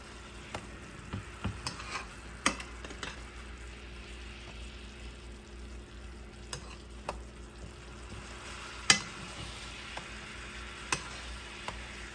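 Honey garlic glaze cooking down on pork chops in a frying pan, a faint, steady sizzle broken by scattered light ticks and clinks from stirring, with no voices.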